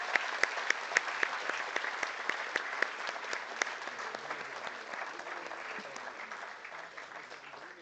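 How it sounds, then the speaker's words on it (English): A conference audience at a plenary session applauds steadily, with scattered sharp claps standing out at first before the clapping settles into an even, softer patter. "Let us have a round of applause."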